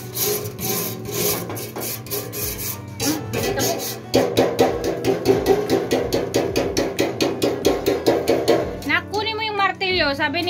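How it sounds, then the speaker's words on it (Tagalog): Rapid, repeated metallic knocks of a hammer striking a rusty container, growing steadier and louder midway, with voices speaking near the end. "Kailangan ng pagpagin ng martilyo."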